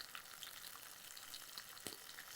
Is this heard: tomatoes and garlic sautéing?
yes